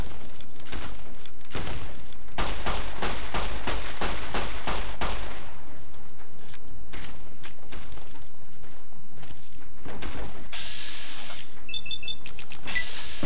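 Loud, rapid gunfire bursts in Fallout New Vegas, a dense fusillade of shots for several seconds, then scattered single shots and clicks amid game effects, no talking.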